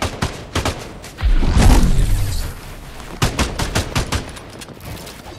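Sniper rifle fire in a multiplayer shooter game: loud, sharp gunshots crack in clusters, with a heavier burst early on and a rapid string of shots near the end.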